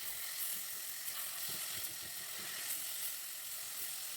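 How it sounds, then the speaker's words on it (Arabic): Lamb meat sears in a pot for an okra and lamb stew, giving a bright, steady sizzle throughout with faint low scraping as it is stirred, close up and with no voices. "افضل اشوح فيها كده لحد ما تاخد لون حلو من كل النواحي"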